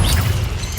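Incendio fire spell cast in Hogwarts Legacy: a short, heavy whooshing burst of flame with a low booming body that flares up and fades within a second, close and fairly loud, without speech.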